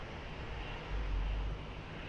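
Airplane on approach to runway 20 at Lisbon Airport, a steady low rumbling engine drone at a distance, swelling slightly for a moment.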